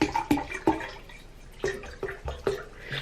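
Bottled water poured into a reusable water bottle, a series of glugging splashes in irregular bursts, close and fairly clear.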